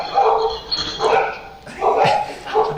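A dog barks in several short bursts about a second apart, fairly close and loud, with a whiny, yelping edge between the barks.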